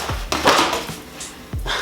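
A plastic fender liner is yanked out of an EG hatchback's wheel well, with a few close scraping thumps and rustles of flexing plastic in quick bursts.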